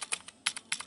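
Keys clatter on a Commodore Plus 4 computer keyboard in short irregular bursts of crisp clicks, close and fairly quiet, with no voices.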